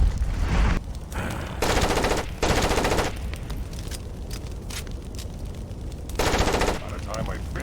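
Gunfire from the Far Cry Instincts Predator video game: loud, dense bursts of automatic weapon fire in several clustered volleys, with short gaps and low rumbling game ambience in between.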